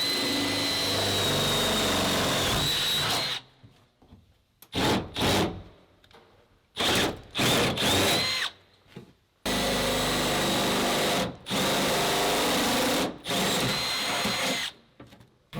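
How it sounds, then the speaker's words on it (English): A power drill pre-drilling holes in the metal of a Ford Transit high-roof extended van, loud whining bursts of several seconds each, stopping and restarting repeatedly at close range. "So we're going to go through now, pre-drill those holes, and then set all the riv nuts in this piece."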